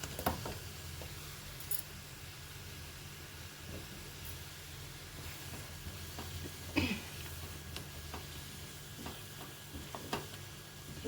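Green chillies and drumstick pieces fry in a pan with onions for a Telugu tamarind-leaf curry, giving a soft, continuous sizzle with occasional faint stirring clicks, quiet and close.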